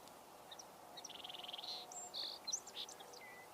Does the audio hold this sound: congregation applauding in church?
no